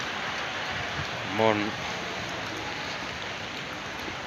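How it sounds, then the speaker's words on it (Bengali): Rain falls on a city street as a steady, even hiss that fills the whole stretch, with a brief voice rising over it for a moment. "শহরের রাস্তায় বৃষ্টিতে ভিজে হাঁটা"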